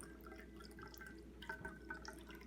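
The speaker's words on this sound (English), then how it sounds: "you get your ice strainer, you put it on your glass here, and then, it's the most beautiful noise ever" A martini poured from a shaker through an ice strainer into a glass makes a faint, continuous liquid trickle and splash, quiet and close with small drips throughout.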